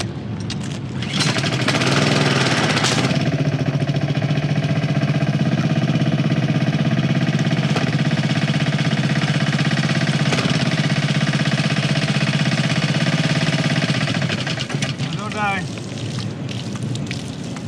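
A pressure washer's small engine runs with a loud, steady rumbling drone for most of the time, close up, then tapers off near the end as it dies.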